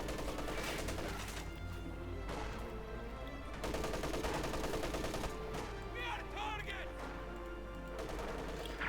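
Dense bursts of machine gun fire and other gunshots in a Company of Heroes 2 match, loud and nearly continuous, with distant crashes mixed in.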